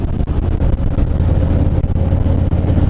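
Harley-Davidson Road Glide motorcycle engine from 2018 running steadily while riding, a loud, close, continuous low rumble with slight surges and no talking.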